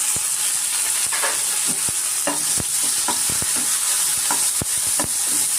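Onion and tomato frying in a pan for fish sambar: a steady broad sizzle runs throughout, broken by repeated sharp scraping clicks from a spoon stirring against the pan, close and loud, with no talking.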